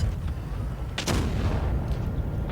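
A single loud tank cannon shot in the mobile video game World of Tanks Blitz, one sharp blast near the middle over a constant rumbling engine and battle background.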